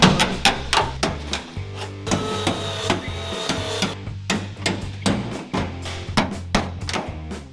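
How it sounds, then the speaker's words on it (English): Workers use a seam buster to pry a glued bedside panel off a Chevy Silverado pickup, producing a rapid series of hard metallic knocks and thuds with a grinding, buzzing stretch in the middle, close and loud with no talking. "Right now he's just taking a seam buster and he's just separating the panel"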